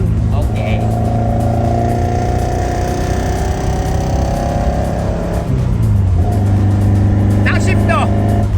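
A Toyota AE86 with a 4A-GE 20V engine revs hard on a rural road in the United States, its steady high-rpm tone climbing and then dropping with a gearshift before rising again, loud and close.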